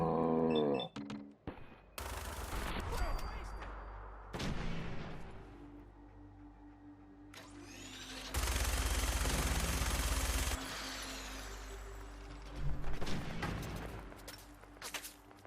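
Enemy gunfire in Fallout 4 comes as loud bursts of shots and sustained blasts, with quieter gaps of game ambience in between and no talking.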